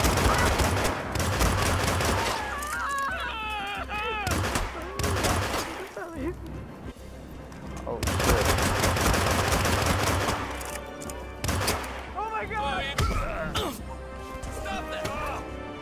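Sustained gunfire from the Hitman video game, dense bursts of shots and clattering impacts running almost continuously and loudly, with someone talking over the shooting throughout.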